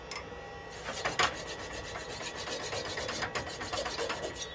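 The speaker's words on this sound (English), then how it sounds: "Right, I'm going to just saw through that." A handsaw cuts through a wooden piece held between lathe centres, steady close rasping strokes at a moderate, even rhythm, fairly quiet with no talk.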